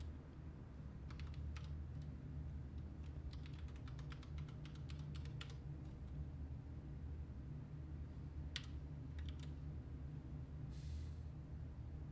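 Keys on a computer keyboard are pressed in scattered bursts of clicks, moderately close, over a steady low hum of room or computer noise, with a few isolated taps toward the end.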